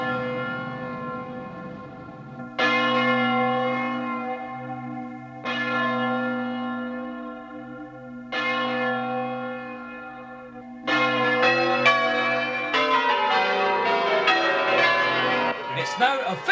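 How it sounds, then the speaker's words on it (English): Church bells ring out at midnight on New Year in the west of Scotland: loud, resonant peals strike in repeated waves, then build into a dense overlapping clamour. "As the bells ring out,"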